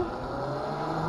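A rebuilt electric Yamaha YZ85 dirt bike with a QS 120 motor is ridden close by, its steady, loud electric whine and rolling road noise holding even throughout.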